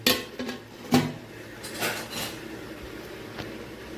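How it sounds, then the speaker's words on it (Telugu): A lid goes onto a pot of flour pancake batter on a low-flame stove, giving a couple of close metallic clanks and a clatter, followed by quieter rattling and scraping. "ఇలా మంట పెట్టి పైన మూత పెట్టుకోవాలి"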